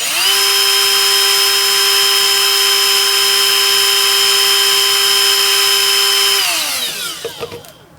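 Milwaukee M12 FUEL 1/4-inch right angle die grinder running flat out at speed 4 near 24,000 rpm, a loud, steady high-pitched whine held for several seconds before it winds down with a few rattling clicks.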